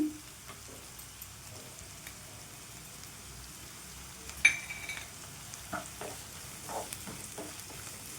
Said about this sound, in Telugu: ఇవి మంచిగా ఫ్రై అవ్వాలండి.